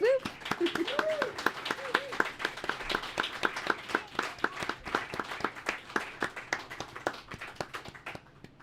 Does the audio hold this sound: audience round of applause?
yes